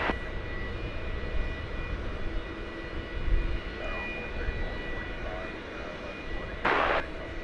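A Boeing 777 jet taxis toward Terminal D at an airport, a steady distant engine roar and whine holding throughout with a brief brighter hiss near the end, no talk.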